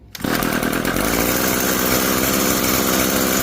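An Echo SRM-2320T string trimmer, a curbside find, fires up after a brief pull and settles straight into a loud, steady, buzzing two-stroke roar on choke. The engine is close and runs alone without talk.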